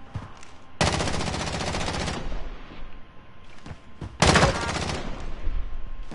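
Automatic gunfire in the video game Call of Duty comes in two loud sustained bursts, the first lasting over a second and the second running to the end, with quieter game noise between.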